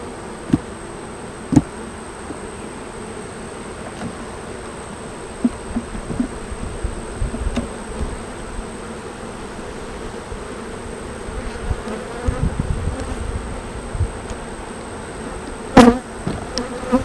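Honeybees buzz steadily around an open hive during a late-July inspection while bees are moved from a nuc into a ten-frame box, a dense close drone with occasional knocks and clicks of equipment, no talking.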